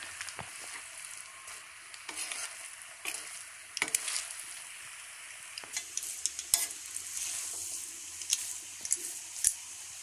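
Vermicelli upma being stirred in a frying pan, a soft continuous sizzle broken by repeated scraping and clinking of the spoon against the pan, close and fairly quiet.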